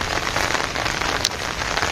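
Light drizzling rain patters steadily on surfaces during a low-pressure spell, a dense, even hiss of fine drops close by with no voices.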